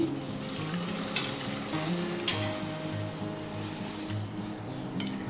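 Chana dal hits a hot pan and sizzles continuously in a Bengali kitchen, a dense, loud frying hiss with light stirring and clinks of utensils throughout, no talking.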